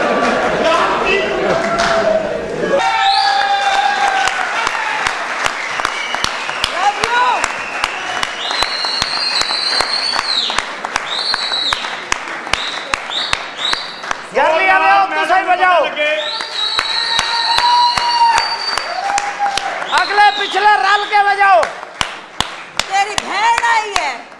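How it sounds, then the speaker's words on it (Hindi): A live stage drama audience breaks into steady, dense clapping that runs nearly throughout, close and loud, mixed with loud voices and musical tones on top. "तालियां अच्छा अच्छा तालियां तालियां"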